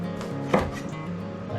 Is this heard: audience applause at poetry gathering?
no